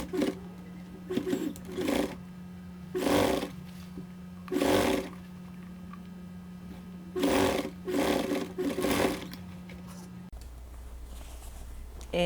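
A sewing machine stitching the opening of a bag made from upcycled shirt sleeves, running in repeated loud buzzing bursts of a second or so with short pauses between, over a steady motor hum.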